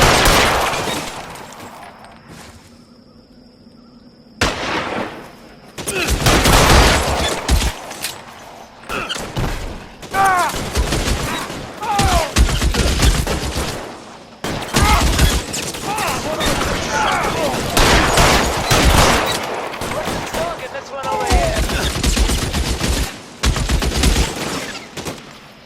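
A video-game gunfight in L.A. Noire, with rapid bursts of gunfire and machine-gun fusillades that come in dense, loud volleys separated by short pauses, while voices shout over the shooting.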